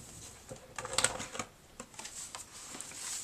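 Paper for a mini album is cut along its edge, producing a close series of quick snipping and crisp rustling clicks at an uneven pace, fairly quiet with a faint background hiss.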